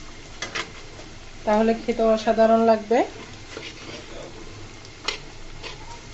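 Bread and egg snack pieces fry in a pan, giving a low steady sizzle with a few utensil clicks, and someone speaks briefly partway through.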